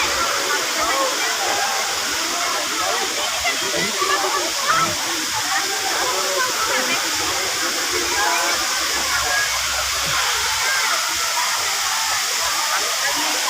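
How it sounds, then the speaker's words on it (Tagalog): Water pours steadily over a cemented, falls-like drop at a spring resort in San Pablo, Laguna, a loud, constant rushing wash that fills the scene throughout. "Ito na po yung sinasabi nilang parang falls."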